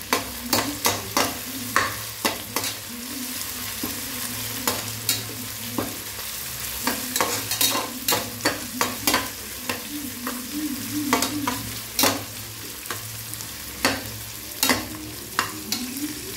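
Onions and green chili fry in a pan while a spoon stirs them, with a steady sizzle and a run of sharp scraping knocks every second or so throughout. It is close and fairly loud, and no one speaks.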